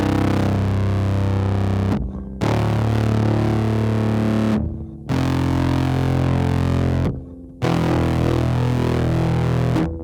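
Electric guitar played through a Bat Sim pedal on its Boss setting gives three sustained, thick distorted chords, each ringing for a couple of seconds before a brief silence, loud and close.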